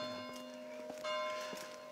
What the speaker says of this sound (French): Tant qu'on entendra sonner les cloches,